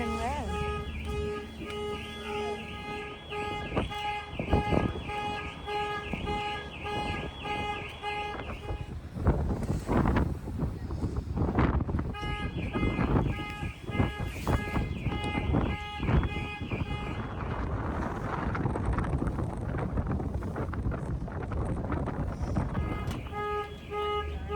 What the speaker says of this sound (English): It was quite windy and chilly up on the deck